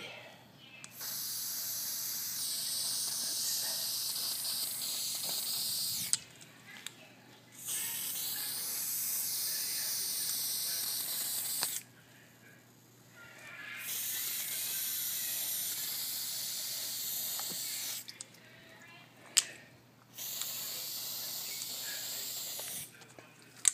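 Spray hissing from a nozzle in bursts of several seconds each, separated by short quiet gaps, loud and close, with faint mechanical clicks between bursts.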